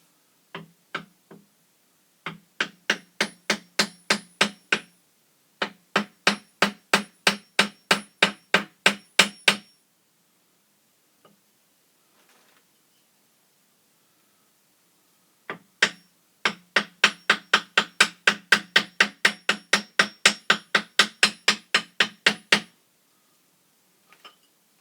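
A round wooden dowel is hammered onto a shaft seal on a 1975 Evinrude 40 HP outboard motor, producing three long runs of rapid, evenly spaced sharp knocks. The strikes sit close and loud, with short pauses between runs.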